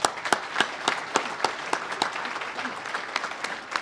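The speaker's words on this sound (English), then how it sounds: "So let's give them a round of applause." Audience applause at a sponsored lunch event, sparse clapping with distinct individual claps standing out over a steady patter, moderately loud and close, with no talk.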